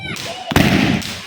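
A single sharp Diwali firecracker bang cracks out close by, abrupt and loud, over noisy background chatter and shouting voices.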